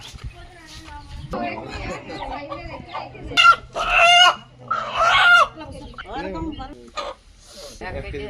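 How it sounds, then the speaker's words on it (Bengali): A desi rooster in a Birbhum village yard, clucking and crowing in a few loud, close bursts while people talk over it. "সকাল সকাল আমরা চললাম মোরগটা আনতে"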